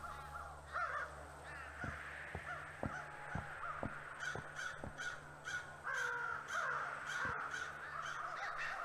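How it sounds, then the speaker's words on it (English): Crows on the grey mountain in a video game caw in a string of harsh calls, some close together and some spaced apart, over a quiet ambient background. "where the crows live and forage for nourishment"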